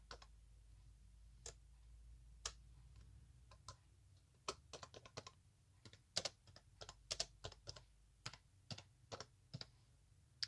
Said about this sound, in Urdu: مثلا میں اپنا نام لکھوں گا.